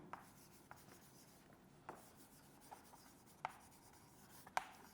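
Pen or pencil writing on a sheet of paper during a school chemistry lesson, with faint scratchy strokes and small taps spaced irregularly across a quiet room.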